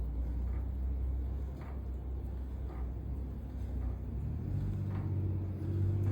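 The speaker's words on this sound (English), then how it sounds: "This wheel's beginning to groan a little bit" A pottery wheel groaning under the load of a tall clay pull, giving a steady low motor rumble with a faint rising hum and no talking.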